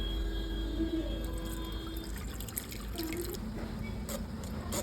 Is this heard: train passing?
no